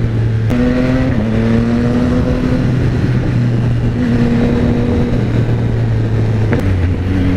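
A Yamaha XSR900 motorcycle's exhaust drones steadily while riding, with engine pitch rising and falling through gear changes, mixed with constant rushing wind buffeting, close and loud throughout.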